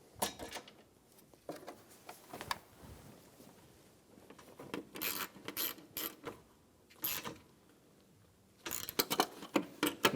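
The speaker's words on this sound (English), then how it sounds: "Install the 10mm bolts for the AC condenser." Quiet metallic clicks and ratcheting as 10mm bolts are driven in to secure the AC condenser on an Infiniti G35, coming in short irregular bursts with pauses between them, close by and with no talking.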